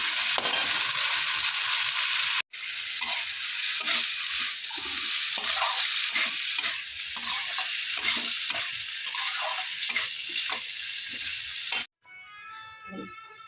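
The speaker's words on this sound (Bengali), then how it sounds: "ফুলকপিটা দিয়ে একটা মশলার সঙ্গে আমি কষিয়ে নিচ্ছি।" Fried cauliflower is stir-fried with spices in a pan, with crackling sizzle and repeated stirring scrapes close by, a short pause partway through and quieter sizzling at the end.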